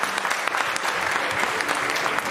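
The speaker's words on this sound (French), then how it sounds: "On applaudit très fort." A crowd applauds loudly and steadily at a robotics competition final, the dense clapping continuing without a break and no voices standing out.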